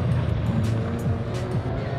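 Cars, including blue Subarus, race through an autocross demo at Boxerfest, with a loud, steady engine roar close by and repeated tire squeals as they take the turns.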